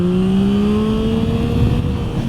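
A 2021 Yamaha MT-09 SP motorcycle accelerating hard, its engine note climbing steadily in a loud, close, continuous rising whine that rides over wind noise.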